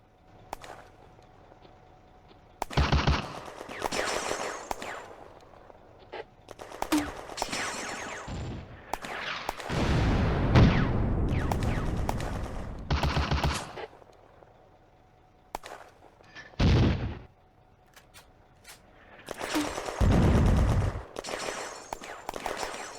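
Machine-gun fire in the Firefight wargame, set in June 1940 at Bléneau railway station, comes as several separate bursts of rapid shots, some sharp and close, others longer and rolling, with quiet gaps between them.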